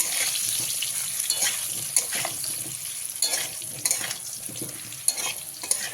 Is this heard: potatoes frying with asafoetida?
yes